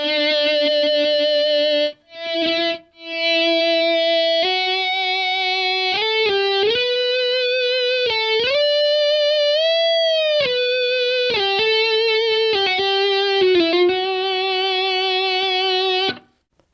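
Electric guitar played through a distortion effect, a sustained, singing lead line of held notes, bends and vibrato, loud and close and heard alone.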